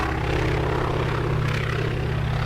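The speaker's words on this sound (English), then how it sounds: "engines, which make quite a unique sound, and these Junkers had 3 of them, so I just put the one recording and put it over itself 3 times" Junkers aircraft engines, with one recording layered three times to sound like three engines, drone heavily and continuously. A deep, steady propeller throb stays loud throughout.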